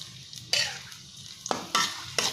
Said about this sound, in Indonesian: Kita tumis sampai harum ya. Sampai sedikit layu dan harum.